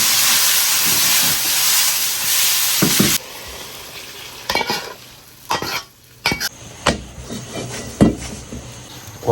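Green vegetables dropped into hot oil in a wok, a loud hissing sizzle that abruptly subsides, followed by scattered clanks and scrapes of stirring against the wok.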